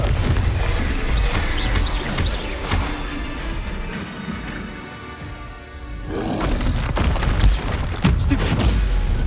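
Confringo spell explosions in the video game Hogwarts Legacy, a dense run of loud booming blasts and roaring impacts that eases briefly midway, then surges again with more heavy hits.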